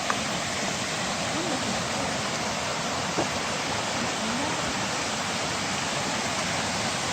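A waterfall on a forest hiking trail roars with steady, dense broadband rushing water, constant and fairly close, with no voices over it.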